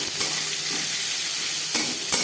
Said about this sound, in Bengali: পনেরো 20 সেকেন্ড জিরে তেজপাতা ভেজে নেওয়ার পর দিয়ে দেবো পেঁয়াজ কুচি